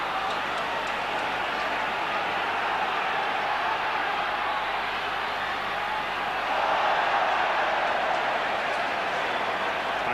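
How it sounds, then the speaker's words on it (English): Crowd at a Wigan versus Hull Kingston Rovers rugby league John Player Trophy final gives steady broad noise, swelling into a louder cheer about two-thirds through, heard from a distance under commentary. "Ironic cheers from the Rovers crowd"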